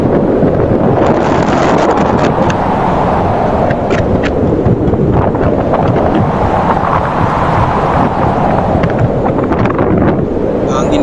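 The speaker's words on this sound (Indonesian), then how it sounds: "Angin kencang di Bantir." Strong wind sweeping through mountainous Bantir in Sumowono, a loud continuous roaring rush buffeting the microphone for the whole stretch.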